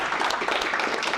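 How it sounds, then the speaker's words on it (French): Conference audience applauding a speaker at an FFDG event, a dense, steady burst of clapping from a crowd indoors, brief and fairly loud. "Je pense qu'on peut applaudir Annabelle"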